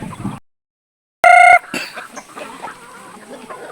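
Backyard chickens being fed coconut worms give a short burst of clucking, with a sharp loud call at the center followed by softer scattered clucks and rustling nearby.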